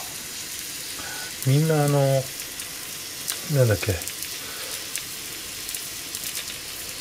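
Over very high heat, pot-au-feu fries in a pan as egg is added, producing a steady close sizzle that continues under a voice speaking twice.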